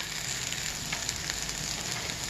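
Onions fry in a pan on a stove turned to medium heat while fried rice is being made, giving a steady, even sizzle throughout with no one speaking.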